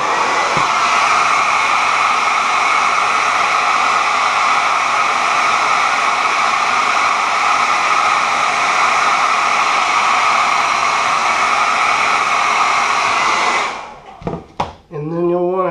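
A heat gun blows a loud, steady hiss of hot air while warming vinyl graphics on a 1988 Yamaha YSR50, then switches off and a voice briefly follows.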